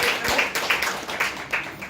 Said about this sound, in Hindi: आप उनके लिए एक बार तालियां बजाएं